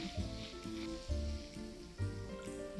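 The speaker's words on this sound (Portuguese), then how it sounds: "agora eu vou colocar só um pouquinho de água para deixar apurando esse molhinho" A little water goes into a hot pan of spiced taco meat with bits of bell pepper, giving a soft sizzle and bubbling under faint, rhythmic stirring sounds, with a low hum in the background.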